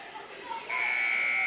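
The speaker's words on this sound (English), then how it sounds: "And there's the buzzer." A sustained electronic buzzer sounds at a high school wrestling match in a gym and holds steadily to the end, with crowd noise and commentary talk around it.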